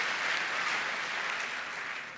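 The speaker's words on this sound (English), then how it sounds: "So go ahead, clap." An audience at a hacking conference talk applauds steadily, a dense wash of many hands clapping at moderate volume for a couple of seconds, gradually easing off at the end.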